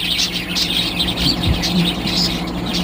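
Pet birds kept at home, including a blue bird, chirp and tweet in quick, steady bursts throughout, fairly close and moderately loud, with a low background hum and no talking.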